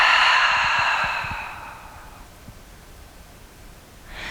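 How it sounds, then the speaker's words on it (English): A long, breathy exhale through the mouth during a yoga flow, loud at first and then trailing off into quiet, with faint rustling of movement and a soft new breath starting at the end. "Take a breath. Exhale it out of the mouth."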